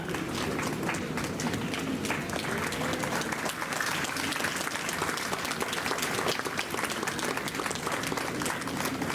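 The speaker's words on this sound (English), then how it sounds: "Big round of applause for Ms. Chinky Tyagi." A large audience applauds steadily at an Independence Day awards ceremony at a university in Meerut, dense sustained clapping filling the room at an even level throughout, with crowd noise mixed in.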